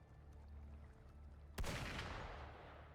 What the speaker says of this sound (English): Several gunshots.